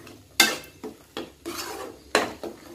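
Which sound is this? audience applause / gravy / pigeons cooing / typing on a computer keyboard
gravy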